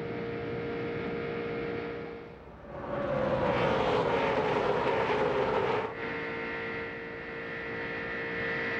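NASCAR stock car engines roar around Daytona International Speedway during the 2001 Pepsi 400. A steady distant drone swells into a loud, rising whine as a car passes close, then drops back to the background hum.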